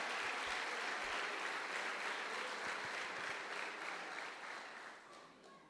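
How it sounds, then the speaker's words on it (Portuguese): A congregation at a church service applauds the Lord, a steady wash of clapping that holds for several seconds and then fades out. "Aplauda ao Senhor."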